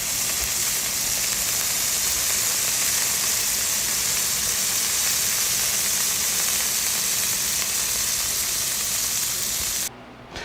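Two 8-ounce burger patties brown in a hot pan with a loud, steady sizzle that runs unbroken and close, then cuts off abruptly at the end.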